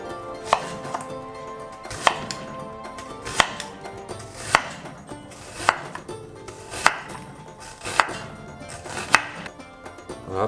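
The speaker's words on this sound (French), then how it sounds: "Nous allons couper les oignons en grosses lamelles" A knife chops onions into thick slices on a board, sharp regular strokes about once a second, close and crisp with no talk, ahead of a sukiyaki udon dish.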